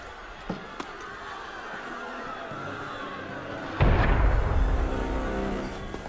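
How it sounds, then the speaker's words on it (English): Cannon fire in Assassin's Creed Unity comes as one heavy, deep boom that lingers as a rumble. A few faint knocks come before it over a quiet background. "That was cannon fire."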